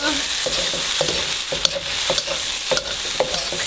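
Shrimp fried rice with Thai basil stir-frying in a pan, a loud, close, steady sizzle punctuated by regular scraping strokes of a spatula roughly every half second.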